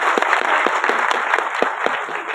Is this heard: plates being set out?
no